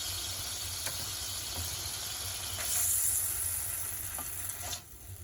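Garlic paste sizzles in a hot pan of butter for a mushroom dish: a steady, moderately loud frying hiss with a few faint clicks and a brief louder surge of sizzle midway.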